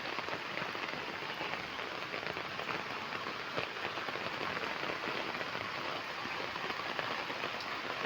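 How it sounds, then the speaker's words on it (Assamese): Steady rain falls outdoors and patters on surfaces at close range, an even, continuous hiss of drops with no voices. "এতিয়া আকৌ আহিছে"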